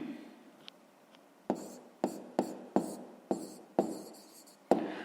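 A pen writes numbers on paper close by, making a series of about seven short scratchy strokes, each starting sharply and fading, after a quieter opening.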